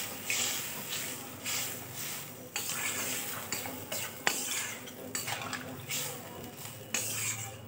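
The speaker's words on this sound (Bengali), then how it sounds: "এবার অল্প পরিমাণ জল দিলাম" Small amount of water poured into a potato and soybean curry cooking in a pot, with metal utensil clinks and stirring scrapes in irregular bursts over a faint background hum.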